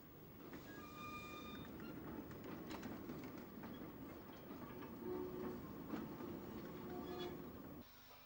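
A steam-hauled local train at a station in Kent gives off a continuous rolling rumble with wheel clatter and a few tonal whistle-like squeals, moderately near and steady throughout.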